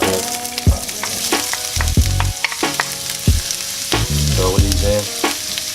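Oil popping and sizzling in a hot frying pan while making a breakfast frittata, a steady crackle broken by louder spits and clatter as food goes in, with a brief spoken remark over it.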